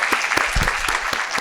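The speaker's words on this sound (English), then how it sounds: "can you please give a round of applause to our panelists for today?" Audience at a climate-targets symposium panel session applauds the panelists, a dense burst of clapping filling the room throughout, close and steady with no talking.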